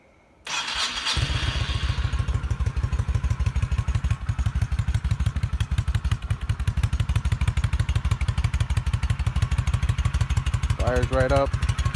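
A 25-year-old Honda Shadow A.C.E. 1100 motorcycle on its stock exhaust fires up cold without choke, catching instantly and settling into a loud, steady, close-up idle. A voice briefly speaks near the end.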